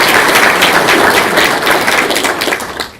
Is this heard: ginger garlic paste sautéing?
no